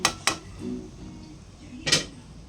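A lid set down on a cooking pot with quick metallic clinks, two sharp taps close together and another clatter a moment later, near and fairly loud in a quiet kitchen.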